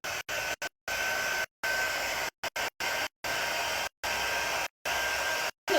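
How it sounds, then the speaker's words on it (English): Heat drying tool blowing air onto a craft project in short bursts, a steady broadband whoosh that starts and stops repeatedly with brief silent gaps between blasts. "Now I'm going to just dry this with my dry tool."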